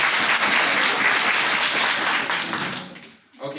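An audience at a business gathering bursts into loud, dense applause that carries on for about three seconds and then tapers off, with a voice starting up at the end.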